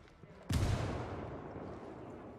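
A single loud video game explosion booms suddenly, in Ghost Recon Wildlands, and then rumbles away slowly over the next two seconds, with no voices heard.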